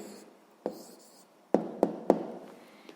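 Pen strokes on paper while a maths answer for a sixth-grade area problem is written down: a few soft scratchy marks, then three sharp taps close together, quiet and close with no talking.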